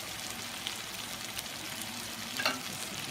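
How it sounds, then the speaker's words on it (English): A flour tortilla fries in red enchilada sauce in a pan, giving a steady, close, crackling sizzle that holds throughout, with a few brief louder pops near the end. "I'm going to let it cook for a little bit because you want the sauce to get into the tortilla"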